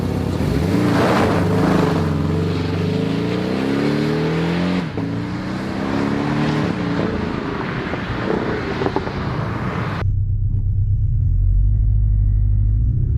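A 2021 Porsche 718 Cayman GTS engine rumbling steadily at close range, pitch rising and falling with the revs, then settling into a lower, deeper drone.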